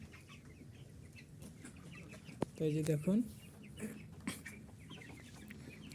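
Broiler chickens sick with a cold in a shed of about 500 birds, giving soft clucks and a brief gurgling rattle amid steady low background hum, with someone speaking quietly.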